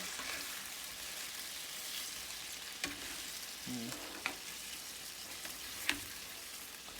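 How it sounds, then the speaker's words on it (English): Orange chicken stirred in a sizzling pan, a low continuous fry hiss broken by a few sharp spoon taps and scrapes spaced across the stretch. "you want to go ahead and stir it up, try to get everything somewhat nicely covered"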